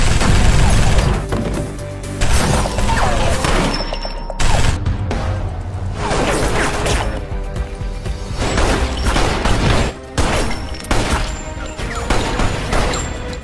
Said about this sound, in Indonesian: mulai mengobrak-abrik tempat itu dengan senjatanya hingga berhasil menghabisi setiap orang yang dilihatnya